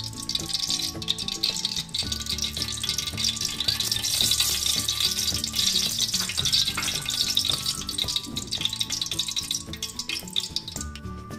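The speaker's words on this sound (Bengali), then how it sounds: "এখানে এর মধ্যে ঢেলে দেব তেল।" Oil heating in a cooking pot for a dried plum and fish curry gives off a steady, hissing sizzle throughout, with soft rattling and tonal background sounds mixed in.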